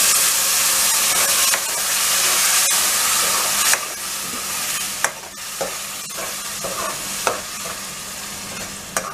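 Spinach and tomato puree goes into a hot pan and fries with a continuous close sizzle. Repeated sharp scrapes and clicks of a stirring spoon come through in the second half, and no one speaks.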